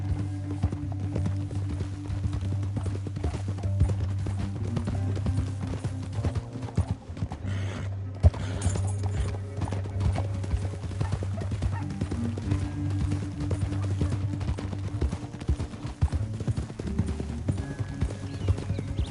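Horses gallop with steady, rapid clip-clop hoofbeats in Red Dead Redemption 2, a continuous close rumble of hooves that carries on for the whole stretch with no talk.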